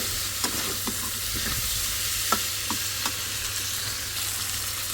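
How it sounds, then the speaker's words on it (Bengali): Masala spices fry in a pan with a steady close sizzle, broken by a few short scraping stirs, and no voices. "মশলা কষাই কিন্তু ওই মশলার মধ্যে দিয়ে ভাজা ভাজা করে নিই এভাবে"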